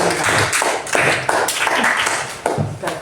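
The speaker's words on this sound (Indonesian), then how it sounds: "tepuk tangan untuk teman kita" A small group in a classroom claps in a brisk, uneven burst of hand claps, fairly close, with a few voices mixed in.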